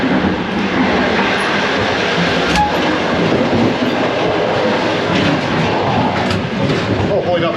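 Loud, continuous rattle and roar of a sleeper train heard from the open gangway between carriages on the Bucharest to Chisinau route, with clattering wheels and metallic banging filling the whole stretch.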